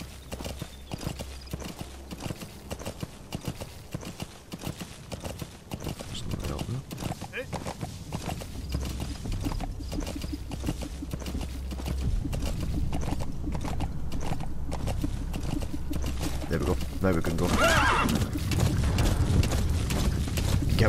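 Steady galloping hoofbeats clip-clop throughout, mixed with a continuous game soundtrack and ambience, from the video game Metal Gear Solid 5: The Phantom Pain.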